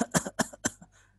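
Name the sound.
imitation of weak repeated small cough of pneumonia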